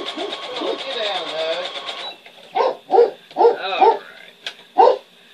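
A house dog barks in several sharp, loud bursts close by, following a stretch of a person talking while sewing a shirt at home.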